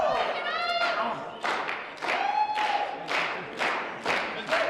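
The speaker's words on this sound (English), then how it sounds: "The crowd here showing their support for the Canuck" A wrestling crowd at an independent show in Arizona cheers and claps in rhythmic bursts to back a Canadian wrestler, loud and roomy, with thumps from the ring and a commentator talking over it.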